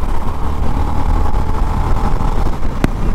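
Steady low engine drone from a 2024 Honda CB350 DLX Pro motorcycle, its exhaust note a continuous even rumble throughout with a brief sharp click near the end.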